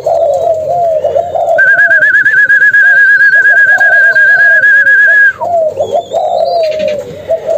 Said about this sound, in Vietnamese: Malaysia thúc gù